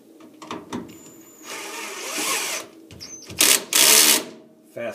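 Short bursts of a motorized screwdriver whirring as the front screw on a washing machine drain pump is driven back in, two main runs with small clicks and handling noises between.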